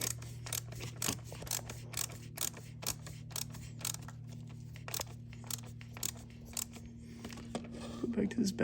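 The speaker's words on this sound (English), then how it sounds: "I'm gonna go back with our little Mac quarter ratchet wrench. I'm gonna tighten them down good and snug" Mac quarter-inch ratchet wrench snugging bolts during a blow-off valve install on a Mk8 Golf R, a steady run of quick metallic pawl clicks in short bursts, close and fairly quiet over a low hum.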